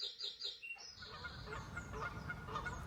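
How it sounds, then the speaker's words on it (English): A bird clock sounds its hourly recorded bird call, a few bright, repeated chirping notes near and fairly faint, followed by a softer rushing background. "It's a bird clock. Every hour we get a bird call."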